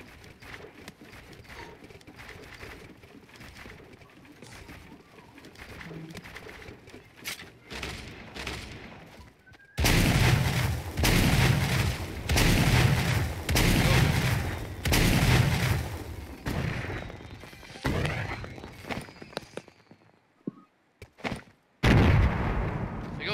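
Repeated grenade blasts in the Fortnite Mobile battle royale game thump and crackle in a rapid, uneven cluster of loud, broadband bursts after a quieter stretch of ambient game sound, with short gaps near the end.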